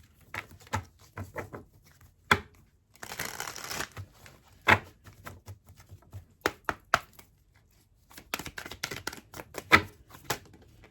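Oracle cards are shuffled and handled in a quiet room: sharp close clicks and taps in irregular bursts, with one dense riffling flurry, and no talking.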